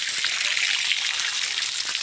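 Water from a tubewell pours steadily over a mango being washed by hand, a continuous close splashing hiss with no gaps.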